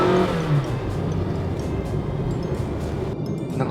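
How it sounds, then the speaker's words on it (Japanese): Small Toyota TownAce camper van accelerating hard in sport mode, a brief rising engine note at the start giving way to a steady rushing engine and road drone, fairly loud, without speech. "このスポーツモード7はアクセル踏んだ瞬間からいきなり加速します"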